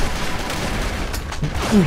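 Gunfire in the online shooter AvatarStar, a dense run of overlapping shots and booms filling the whole moment at steady loudness, with a player's voice briefly heard over the battle.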